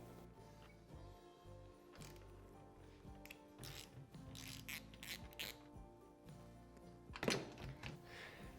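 Bolts on a windshield mount of a Honda Talon 1000X-4 UTV are tightened with hand tools, giving faint metallic clicks, ratcheting and thunks. The sounds are scattered irregularly across a quiet garage background, with a sharper knock near the end.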